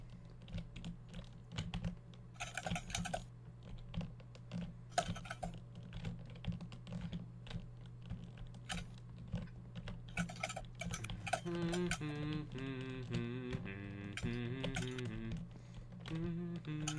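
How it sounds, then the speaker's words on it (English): Rapid clicky computer keyboard typing runs throughout, irregular bursts of keystrokes close to the mic, later joined by a melodic game tune in the background. "Clickety clackety keyboard."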